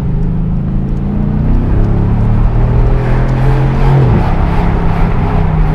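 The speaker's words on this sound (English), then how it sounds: "The diesel and the pops and crackles from that V8 up front." A Mercedes-AMG GT R with its front-mounted V8 drones loud and close from inside the car, its tone rising and shifting steadily as it drives, with no speech over it.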